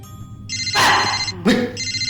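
Electronic telephone ringtone trilling in two bursts with short gaps, fairly close and clear, broken up by louder rustling or handling noise partway through, with no talk over it.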